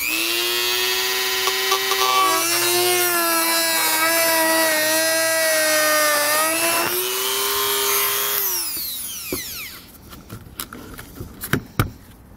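Trimming the plastic bumper fascia of a 2015 Honda Odyssey with a power tool, a loud, steady high-pitched whine that dips in pitch under load for about eight seconds, then winds down into scattered clicks and handling knocks.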